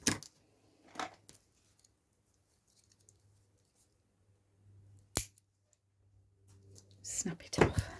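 Dull-bladed scissors snip paper in a handful of sharp, isolated cuts spaced several seconds apart, close and fairly quiet over a faint low hum.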